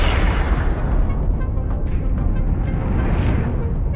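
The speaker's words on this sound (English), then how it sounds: "With a massive explosion, 𝐏𝐫𝐞𝐲 was blasted apart." A massive explosion from a Predator animation, heard as a loud, sustained roaring blast with dense rumbling low end and crackling debris, no voices over it.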